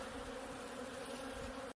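Honeybee colonies buzz steadily around their hives, a dense, continuous hum of many bees heard up close with no voices.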